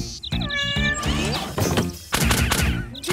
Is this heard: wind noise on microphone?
no